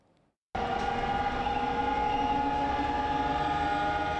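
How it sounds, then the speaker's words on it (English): A loud, sustained emergency drill siren wail in Taipei, Taiwan, starts abruptly after a brief quiet moment and holds a steady tone with no voices. "As the sirens go off"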